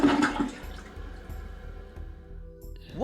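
A toilet flushes in the Time Adventures video game, a short watery rush that drains away into quieter trickling and drips, heard on its own.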